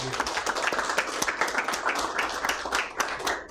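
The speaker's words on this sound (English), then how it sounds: "let's give him a round of applause" A small group claps steadily for a few seconds at a city council meeting, a modest round of applause with scattered individual claps.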